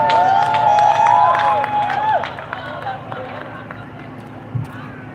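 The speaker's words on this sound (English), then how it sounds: "Make some noise for them, please. Clap, scream, hoot, and holla." An audience at a live poetry show cheers, whoops and claps for the next set of poets, a dense crowd roar that is loudest at first and then eases off, with voices shouting through it.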